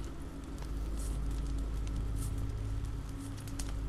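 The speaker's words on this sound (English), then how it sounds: "This rain will turn to sleet, then ice, then snow." Steady rain falls in The Walking Dead video game, a constant hissing patter with a low rumbling bed underneath, even and unbroken.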